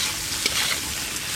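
Fried potato and eggplant are stirred in a pan of hot oil with ground turmeric, chilli, cumin and salt, producing a close, even sizzle with a few light scraping clicks and no talking.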